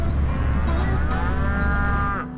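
Shorthorn cattle on a hillside ranch give a long, loud, drawn-out moo close by, its tone sliding upward and ending abruptly, over steady low background noise.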